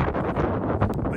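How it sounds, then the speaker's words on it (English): Steady wind buffeting a microphone outdoors, a low continuous rumble with gusty swells and no voices. "But you can hear the wind"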